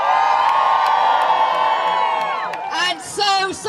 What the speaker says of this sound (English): there are so many of you protesting this evening that the crowds are stretching back right into Parliament Square.